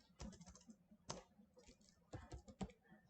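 Quiet typing on a computer keyboard, with soft, uneven clusters of key clicks and short pauses between them, close and alone.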